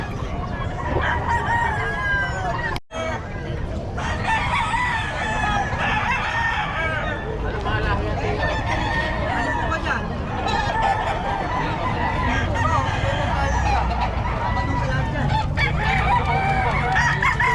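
Several Sweater gray gamefowl roosters crow repeatedly at a busy Bocaue gamefowl market, with clucking and a dense crowd murmur running underneath throughout.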